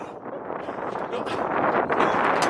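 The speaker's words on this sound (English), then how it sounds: "Oh my god, it's windy." Strong wind buffets the microphone in a loud, rushing roar that builds steadily over a couple of seconds.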